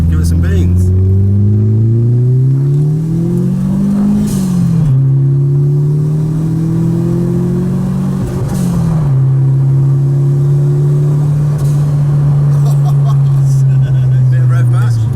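A Fiat Uno Turbo accelerates hard down a straight, its engine note climbing through the gears with two quick shift dips. The engine is loud and close inside the cabin, and people talk over it.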